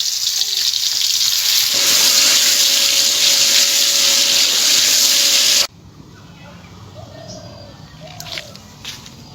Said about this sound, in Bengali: এবারে এই তেলের ভিতরে আমি ডিমগুলোকে ভেজে নেব